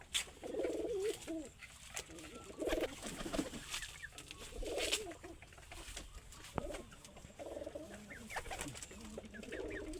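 A Lakha pigeon, paired with a Giribaz, coos in a series of soft, repeated rolling calls over a low background hum, with other birds faintly audible and no talk.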